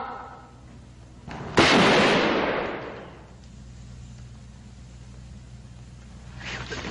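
A single sharp gunshot from a guard's weapon in a 1946 film, loud and close, with a long rumbling decay and echo trailing into a quiet background.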